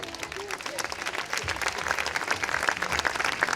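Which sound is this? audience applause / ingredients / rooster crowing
audience applause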